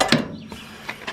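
Part of an outdoor wood burner being tightened down, a few short ratcheting clicks and metallic clacks, close and fairly quiet, spaced irregularly.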